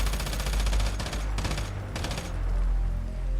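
A gun in the shooter game Once Human fires rapid automatic bursts, loud and close, in several fast strings with brief pauses between them.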